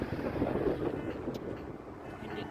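Steady wind buffeting the microphone, a continuous low rumble with broadband hiss throughout, fairly close and constant.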